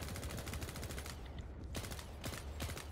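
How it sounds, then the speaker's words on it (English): Nail gun fire in the Quake Champions shooter, rapid rattling bursts of shots in quick succession, with a brief pause in the middle before the volley resumes, loud and close. "So this is the nail gun."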